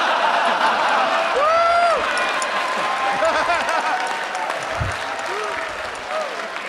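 Audience applause fills the room steadily and loudly, with scattered cheers and whoops, while a voice speaks over the clapping.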